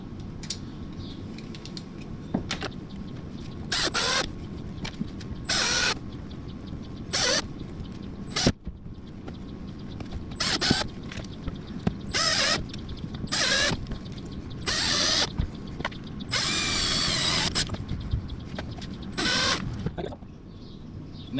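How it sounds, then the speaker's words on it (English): Screws driven down into a kayak hull to fix gear track pieces, heard as repeated short bursts of drill whir separated by pauses, with creaks and handling clicks in between, close and moderately loud. "So I'm going to screw these three pieces down, and yeah, I'm just going to screw right into it."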